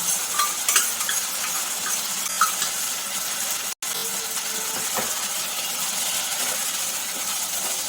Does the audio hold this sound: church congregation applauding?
no